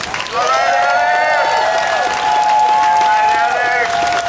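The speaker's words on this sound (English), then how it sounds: "Let's give Alex a round of applause." A crowd at a Unite Against Hate rally in Jacksonville, Florida cheers and applauds loudly, with sustained whoops and shouts riding over dense clapping that swells again near the end.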